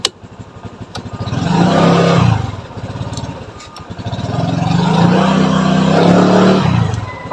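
A scooter engine with a CVT fitted with 16-gram flyball rollers revs up twice, each time rising to a loud sustained whine before dropping back to idle, heard close with no talk.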